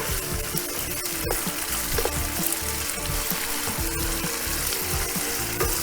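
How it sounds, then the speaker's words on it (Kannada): Two onions sautéing in a pan for a wedding-style paneer mutter gravy, a loud steady sizzle with a sharp utensil tap and repeated stirring scrapes. "ಫಸ್ಟು ಈರುಳ್ಳಿ ಬಾಡಿಸೋಣ"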